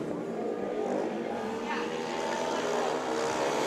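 Speedway motorcycles in a final three-rider race on the Perris Raceway dirt track produce a loud, continuous engine roar that swells and fades slightly as the bikes circle, with no break throughout.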